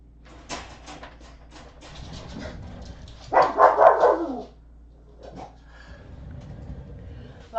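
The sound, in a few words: dog barking at another dog outside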